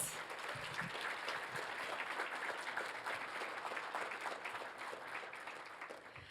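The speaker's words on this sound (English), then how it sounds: "let's give all of those lightning talk presenters a round of applause" Applause rises for student presenters after lightning talks at an undergraduate research showcase, a faint but continuous patter of many hands clapping that holds steady for several seconds.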